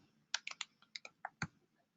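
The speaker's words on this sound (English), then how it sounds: "If I type problem into my search bar," Quick, light keystrokes on a computer keyboard as a word is typed into a search bar: about eight crisp, close clicks in a brief burst, then quiet.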